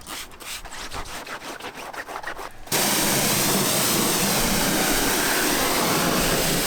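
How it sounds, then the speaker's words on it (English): A sponge rubs against a car's surface during budget detailing, giving a rhythmic, grating squeak in quick strokes before a loud, steady rushing noise takes over. "A sponge. This is so painful. That's such a horrible noise."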